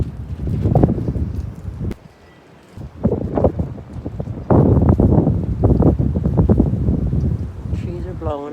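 Strong gusts of wind on a bitterly cold night, around 15 degrees, rumble and buffet a nearby microphone in surging waves, with a person talking over much of the roar.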